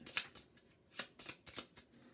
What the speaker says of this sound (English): Shuffle these up again.